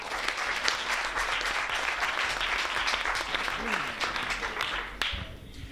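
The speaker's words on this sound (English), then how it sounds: "I would like to welcome him here with an applause" An audience in a university lecture hall gives a sustained round of applause to welcome the lecturer, steady and full throughout before thinning near the end.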